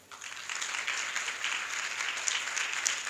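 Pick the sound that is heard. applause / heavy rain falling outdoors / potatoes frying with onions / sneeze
applause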